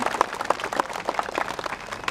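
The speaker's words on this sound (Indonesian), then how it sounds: "Saya minta tepuk tangan dulu dong buat masyarakat Seresam." A crowd at an Islamic religious gathering in a village applauding with dense, steady clapping throughout, fairly close and lively, with no voices standing out.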